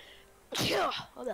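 A single sharp human sneeze, close and loud after a moment of quiet, followed by a short breathy tail.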